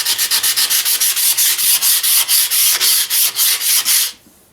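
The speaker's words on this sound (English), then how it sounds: "To run that sander, I got to run my big compressor." Loud, rapid rhythmic rasping of a compressor-driven air sander against a metal driveshaft, steady back-and-forth strokes for several seconds before abruptly cutting off.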